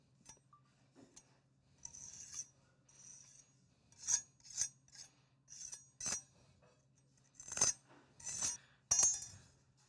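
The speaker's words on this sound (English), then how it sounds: "We are just smoothing out the surface slightly with a nice dry" A dry steel trowel is drawn over a plaster surface, producing a string of short, scraping, rasping strokes, quiet and close, with faint clinks between passes.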